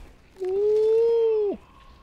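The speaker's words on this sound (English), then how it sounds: "Is that a howler monkey?" Howler monkey call in the video game Hunt: Showdown: a single sustained, rising-then-level moaning howl lasting about a second, clear and fairly loud against a quiet background, ending abruptly.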